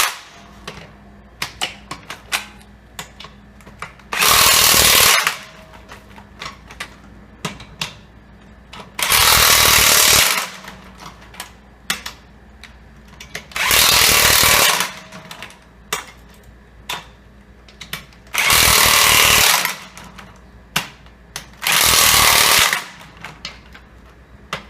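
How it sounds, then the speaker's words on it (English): A power tool tightens the lug nuts on a car wheel during a brake job. There are five loud bursts of rapid hammering rattle, evenly spaced several seconds apart, with small clicks and clunks of handling between them. "all it is just simply tightening up the lug nut"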